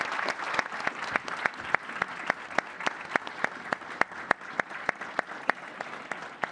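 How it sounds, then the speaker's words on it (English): Applause for UK Prime Minister Starmer at a leaders' meeting in Tallinn, with a room of people clapping in a steady, dense patter of individual claps and no break. "let's give him a round of applause and allow him to leave"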